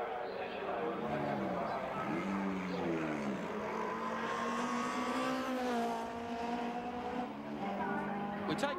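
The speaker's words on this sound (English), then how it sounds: "We take race cam from Klaus Niedzwiedz, ANZ Sierra, as he comes out of BP cutting and heads to the top of the mountain" An ANZ Ford Sierra Cosworth RS500 racing at Bathurst in 1988, heard from onboard as it climbs the mountain. The close, loud engine rises in pitch through each gear and dips briefly at the shifts.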